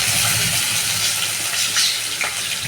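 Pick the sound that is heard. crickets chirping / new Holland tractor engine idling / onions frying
onions frying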